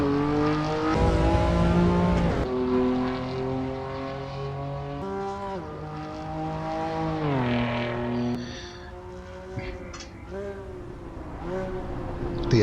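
Race car engine in the video game Assetto Corsa Evo, a loud, steady high-pitched drone that climbs and drops through gear changes and revs over several seconds, heard from an outside view.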